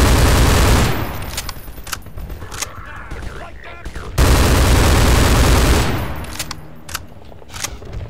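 Gunfire from a weapon in Half-Life 2 (Cinematic Mod), with loud sustained bursts near the start and again midway, separated by quieter stretches of scattered sharp shots and game noise.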